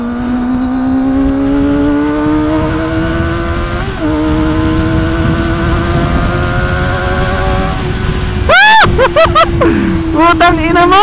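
A ZX-25R or MT-09 motorcycle on a leisure ride accelerates to overtake, its engine note climbing steadily under heavy wind rush before a sharp, loud burst of revving near the end.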